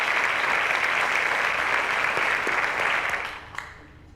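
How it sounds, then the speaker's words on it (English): Studio audience applause on a quiz show, a dense, sustained wash of clapping that fades out near the end. "A round of applause, ladies and gentlemen."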